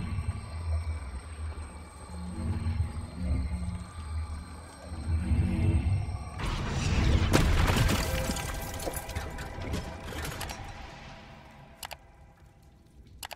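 Wingardium Leviosa spell cast on a chess statue in Hogwarts Legacy, with a low droning hum giving way to a loud, bright magical whoosh and crackling shimmer that fades out.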